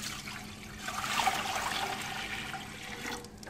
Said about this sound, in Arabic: هنا لدي طنجرة كبيرة واسعة، سوف أضع الماء حتى يبدأ في الغليان